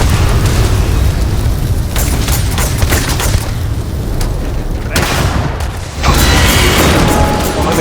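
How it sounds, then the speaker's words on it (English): Grenade blasts in Starfield combat: loud, close booms and bursts rolling through continuous heavy rumble, with sharp cracks and a fresh surge of explosive roar near the end. "Oh, the grenade"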